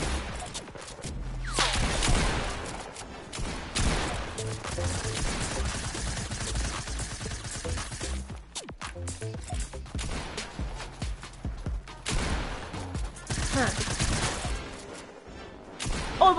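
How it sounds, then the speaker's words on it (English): Two players trade fire in a Fortnite arena match, with rapid overlapping bursts of gunshots that come in loud clusters separated by brief pauses, running through most of the span. "We're both shooting at the same time"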